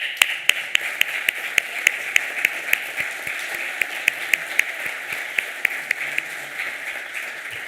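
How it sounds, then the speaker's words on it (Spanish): Audience applause for heritage department staff at a cultural heritage conference in Aragón, with sharp individual claps standing out in a steady rhythm over a softer wash of clapping, fairly close and sustained, with no talk. "Un fuerte aplauso para ellos."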